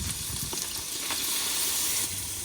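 Tantuni meat sizzles hard in a pan with olive oil and a splash of water, a steady close hiss and crackle with faint stirring scrapes and no talk.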